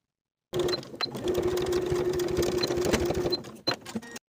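An electric sewing machine edge-stitches fabric binding on a lined crossbody belt bag, running in one steady, close whirring stretch of about three seconds before stopping, then giving a brief final burst.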